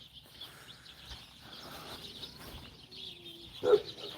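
A songbird sings outdoors at a sanctuary, with faint, thin chirps and a short whistled note rising over soft background noise, distant and quiet, ending with a brief louder call.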